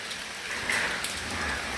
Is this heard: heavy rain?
yes